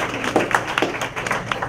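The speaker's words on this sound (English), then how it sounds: "Clap your hands, all the couples." Audience couples at a comedy show clapping their hands, a short burst of scattered claps from a small crowd, fairly close and uneven in rhythm.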